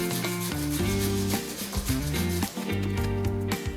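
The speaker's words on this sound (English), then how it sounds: "Next, I grab the grater and crush those onions into tiny pieces." Onions rubbed against a grater, rapid rhythmic scraping strokes close to the mic, steady and moderately loud over a few seconds with no talk.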